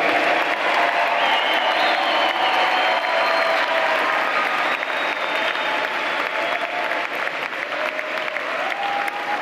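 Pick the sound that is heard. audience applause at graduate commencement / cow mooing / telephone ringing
audience applause at graduate commencement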